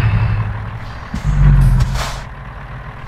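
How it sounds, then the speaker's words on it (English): A truck engine in American Truck Simulator rumbles at idle, then cranks and revs up with a low steady drone, a hiss of air and a brief higher whine, close and alone. "We're starting up the truck."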